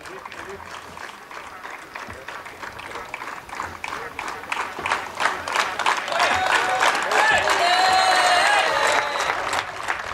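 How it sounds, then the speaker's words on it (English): A large audience at a FIFA Football for Schools inauguration ceremony at KISS University in Bhubaneswar claps and cheers as a speaker is called to the stage, the applause swelling steadily louder with whistles and shouts rising near the end. "getting quite a cheer"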